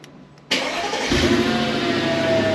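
Mercedes E55 W211 V8, just back from fuel injector work, cranks and catches about half a second in, then holds a loud, steady close-up idle with a slightly uneven rumble and no talking.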